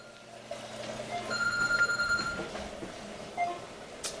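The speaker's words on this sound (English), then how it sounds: "Sorry about that. That was my phone." A mobile phone rings with a brief electronic tone pattern lasting about a second, moderately loud over a quiet room with aquarium water hum, followed by a few small knocks.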